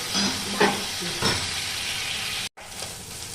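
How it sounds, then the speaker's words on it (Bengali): Chital fish bones and scraps fry crisp in plenty of hot oil, giving a loud, continuous close sizzle with a couple of brief stirring scrapes and a momentary cut near the end. "ভালো করে একটু বেশি তেলে কড়া করে ভেজে নেবে"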